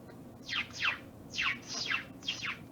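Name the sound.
person imitating a bird chirp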